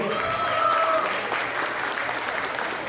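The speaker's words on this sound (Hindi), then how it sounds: "जोरदार ताली दो" An audience at an Utkal Divas (Odisha Day) celebration in Tampa, Florida, breaks into brisk, steady clapping for about three seconds, heard at moderate level with a faint voice rising briefly at the start.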